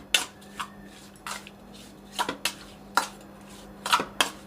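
Salt being mixed into mandeli fish in a dish, with a series of sharp clinks and scrapes of utensil on the dish spaced irregularly, close and fairly loud with no voices.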